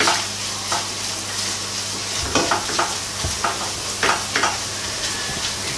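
Flour cooks in a pan for a vegan white sauce curry. A close, steady sizzle runs under repeated scraping stirs that come in short bursts, with no voices.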